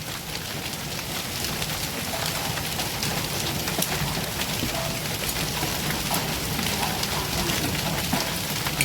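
Hail mixed with heavy rain pours down in a dense, continuous hiss and patter, with sharper ticks of hailstones striking surfaces throughout, loud and unbroken.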